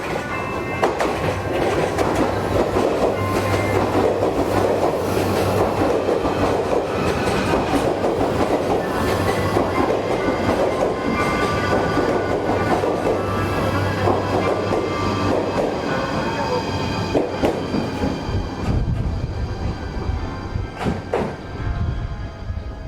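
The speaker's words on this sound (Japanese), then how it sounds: "電車が目の前を通過するので" A train rushes past right in front of the microphone, a loud, sustained roar with rhythmic clickety-clack of wheels over rail joints, distorted by level overload, easing off near the end with wind buffeting the mic.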